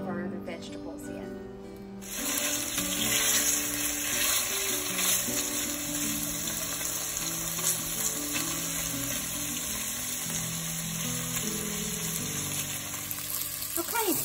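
Smoked sausage browns in a pan with a steady, close sizzle that swells after the first two seconds and runs on evenly, while a person talks over it throughout.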